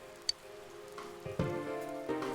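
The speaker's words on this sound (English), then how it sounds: "Good thing it looks like the rain will keep up all night." Rain falls softly in the video game Persona 4 Golden, a faint, steady patter under sustained gentle game music tones, with a few small drip-like clicks.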